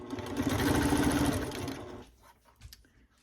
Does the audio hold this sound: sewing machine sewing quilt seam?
yes